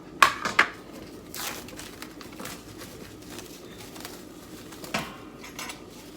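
Homemade barley bread is set down on a plate in a kitchen: a quick cluster of light ceramic clinks and knocks, then a quiet stretch and one more soft knock near the end.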